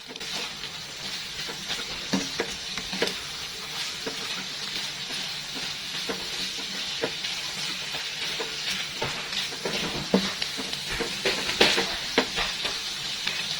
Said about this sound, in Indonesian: Setelah itu kita tinggal aduk-aduk lagi aja sampai semuanya tercampur rata.